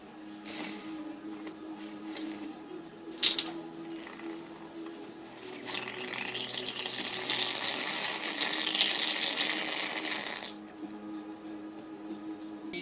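Air blown through a tube into a party plate for a New Year bubbling prank, making a steady hissing, gurgling bubbling that runs for about five seconds after a brief sharp knock, with no talk.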